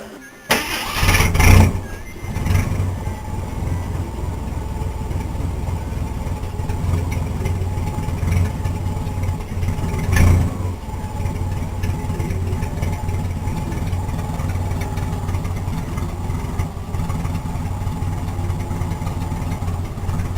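A car engine starts with a brief rough catch, then settles into a steady, low idle that keeps running evenly and close by.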